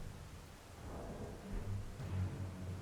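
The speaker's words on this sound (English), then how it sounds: "It's raining" Rain and rolling thunder in the video game Elden Ring form a faint, steady hiss with low rumbles swelling midway through, with no voices.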